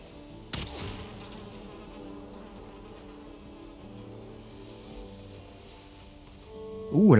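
Bees buzz steadily around a hive in Valheim, a continuous close droning hum that holds through the stretch, with a brief sharp noise near the start and a louder swell at the end.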